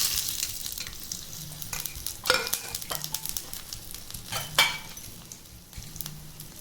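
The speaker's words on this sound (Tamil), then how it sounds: "உளுத்தம்பருப்பு செவக்கிற வரைக்கும் வறுத்துக்கணும்." Urad dal, black pepper and cumin dry-roasting in a pan, giving a steady close sizzle and crackle with scraping stir strokes and a few louder clatters, no talk.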